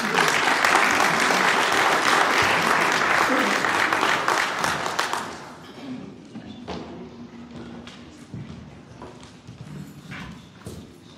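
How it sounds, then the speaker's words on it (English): An audience applauds at a talk honoring a late Georgia state senator, steady loud clapping for about five seconds before fading into scattered claps and room murmur. "So a big round of applause for Kim Liebl."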